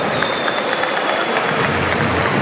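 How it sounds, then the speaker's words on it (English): A large stadium crowd at a Barcelona versus Getafe football match gives sustained applause, a broad, continuous wash of clapping and crowd noise heard at a distance with no break. "receiving more applause than whistles"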